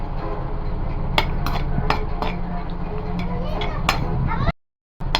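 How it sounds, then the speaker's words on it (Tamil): Two dried red chilies frying in hot oil in a pan while making ridge gourd thokku: a steady close sizzle with sharp clinks of a utensil against the pan, ending in a brief gap of silence. "2 காஞ்ச மிளகாய் இதுவும் நல்லா ஃப்ரை பண்ணி எடுத்துக்கலாம்"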